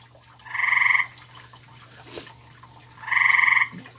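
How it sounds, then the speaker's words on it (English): A frog croaks close by in two loud, rapid pulsing trills separated by a short pause, over a steady low hum. "you frog, shut up"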